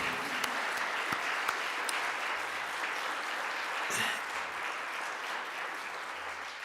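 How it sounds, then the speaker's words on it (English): Steady audience applause at a World AIDS Day evening program for the ensemble, a full even wash of clapping with a few sharp claps poking through, holding at a consistent level throughout. "How about one more round of applause for the World AIDS Day Ensemble?"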